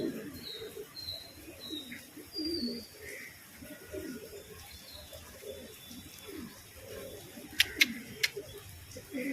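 Pigeons coo in soft, low, repeated phrases during rain, fairly faint and distant, with a few sharper bird chirps near the end.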